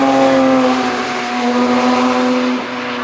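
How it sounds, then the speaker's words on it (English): Porsche Cayenne GT prototype on a warm-up lap, a loud, close engine drone holding a steady tone for several seconds as it passes, then dropping slightly in pitch as it pulls away. "Cayenne GT, probably in a warm-up lap."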